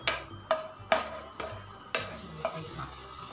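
Caramelized sugar poured into thick wheat halwa in a pan, giving a handful of separate sharp sizzling bursts and soft ticks spread over a few seconds, fairly quiet and close, with no voices.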